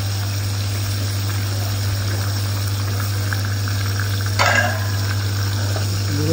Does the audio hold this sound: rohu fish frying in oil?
yes